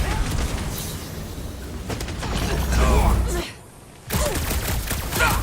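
Gunfire in Guardians of the Galaxy on PS5, dense bursts of shots and impacts layered with mechanical clatter, cutting out briefly into a muffled lull before the barrage resumes at full strength.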